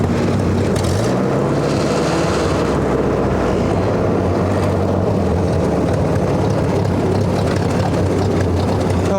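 A 1958 Ford 851 tractor engine labors in cold weather, giving a loud, steady, rough drone that runs unbroken from start to finish.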